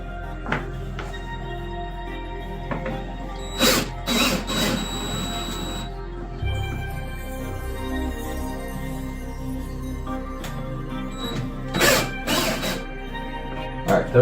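A hand tool works the rear bolts loose on a jukebox, with metallic clanks, ratcheting and scraping up close, a steady hum underneath and bursts of louder knocks.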